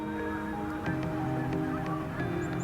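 Several geese flying overhead honk repeatedly in an overlapping chorus, fairly close and steady throughout, at the Brattleboro inlets in Vermont.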